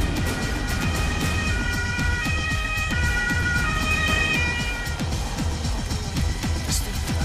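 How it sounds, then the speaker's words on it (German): An ambulance siren wails in repeating two-tone cycles, loud and fairly close, over a rumbling, rattling background. "Der Krankenwagen ist schon unterwegs."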